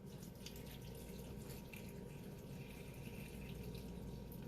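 Water poured or running from a tap during home cooking of beef liver and cabbage, a faint, continuous hiss and trickle lasting several seconds without pause or voices.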